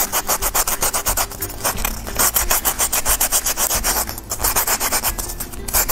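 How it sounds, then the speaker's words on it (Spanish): Rhythmic hand sanding of a small wooden craft piece, a rabbit-shaped candy dish, with steady back-and-forth rasping strokes close up and no talking. "Ya que está así, entonces volvemos a lijar."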